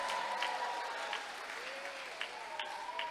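A hall audience at a school graduation farewell ceremony claps together, a soft, fairly distant patter of many hands with some faint background tones.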